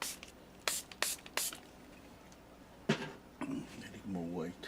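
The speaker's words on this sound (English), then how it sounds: "I'm spraying water on my brushes here." A spray bottle spritzes water onto acrylic paint brushes in several short bursts, with quiet talk following later.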